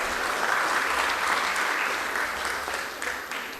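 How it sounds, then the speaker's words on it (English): An audience at a university research showcase gives a congratulatory round of applause, dense and sustained, loud at first and then slowly thinning. "So let's give him a big round of applause."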